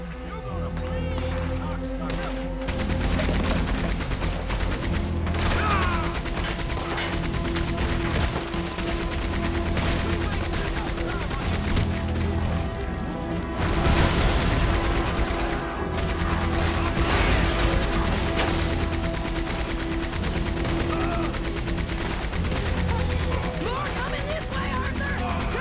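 Crossfire in the video game Red Dead Redemption 2, a dense, steady rattle of distant gunshots and mechanical clatter running throughout, with voices speaking over the fight.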